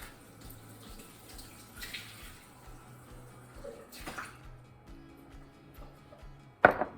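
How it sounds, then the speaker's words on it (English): Tap water runs into glass jars for sauerkraut with a steady gurgling rush, then pauses and flows again, ending with a sharp clink of glass. "I'm gonna fill them up a little bit with water."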